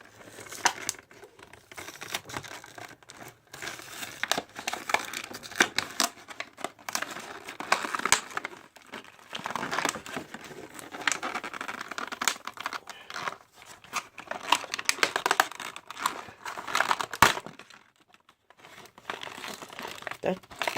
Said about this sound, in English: But let's get to this unboxing.